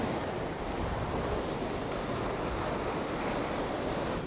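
Sea surf washes steadily onto the shore near Arbroath while shore fishing for cod, a continuous rushing roar mixed with wind buffeting the microphone, with no talking.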